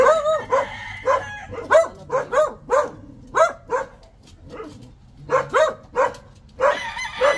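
Dog barking beside a deep round hole where a large snake hides, a burst of sharp repeated barks in uneven clusters, fairly close and loud, with short pauses between volleys and no talk over it.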